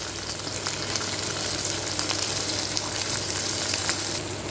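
Tomato sizzles in hot oil in a pan while being sautéed for an oil-rich brinjal gravy, a steady close crackling fry with faint stirring and no talking.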